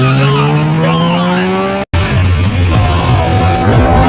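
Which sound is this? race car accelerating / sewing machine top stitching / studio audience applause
race car accelerating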